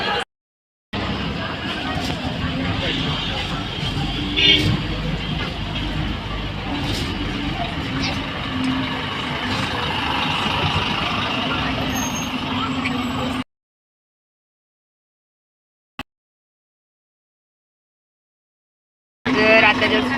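Heavy bus or truck engine rumble with a hiss like air brakes, recorded at a bus stop during a long bus journey from Pune to Dhule. Continuous loud traffic noise runs for about twelve seconds, then cuts to near silence before noise returns briefly.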